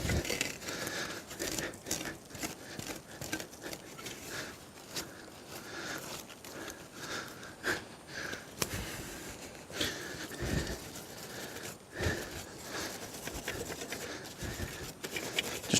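A handful of sand is scattered and rubbed across the ground to blend it in, making a soft, gritty crinkling and rasping that repeats in close, quiet strokes for a sustained stretch.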